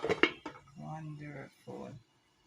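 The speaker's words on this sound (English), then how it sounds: "Let's cover back our pot." A metal lid goes back onto a cooking pot of fish, giving a couple of quick clinks at the start, followed by talking.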